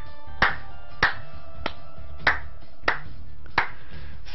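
Six sharp, evenly spaced hand claps ring out alone against a quiet background.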